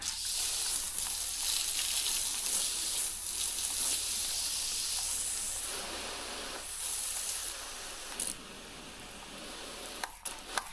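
A pressure washer cleans mud off car tires on a farm: a loud, continuous hissing spray of water under pressure, shifting slightly in intensity and ending with a few faint clicks.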